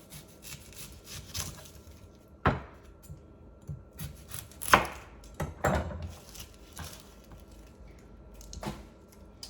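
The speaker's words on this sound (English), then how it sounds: "I'll continue to cut one more vegetable, which is my onion, a Vidalia onion here." A knife cuts through a Vidalia onion on a board in a home kitchen, giving a handful of irregular, crisp, close chops separated by quiet pauses.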